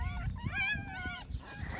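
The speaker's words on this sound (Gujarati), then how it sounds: "એક કૂતરી વિયાણી છે એ નનકા મસ્ત ગલુડિયા લઈ આવી છે" A mother dog that has just given birth to a litter of puppies makes close, high-pitched whimpers and yips, wavering and repeated over soft low thumps.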